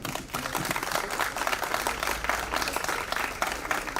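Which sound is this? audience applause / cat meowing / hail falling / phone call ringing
audience applause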